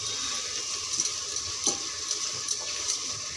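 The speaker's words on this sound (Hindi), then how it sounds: "अब इसको अच्छे से हम फ्राई करेंगे।" Spring onions and potatoes fry in a pan, giving a soft, steady sizzle with faint stirring clicks and light scraping taps. No voices are heard.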